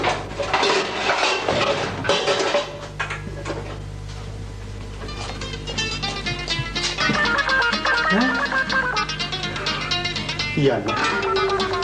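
Metal pots, pans and dishes clatter and clang in repeated bursts, loud and close, with voices talking over the crashing kitchenware.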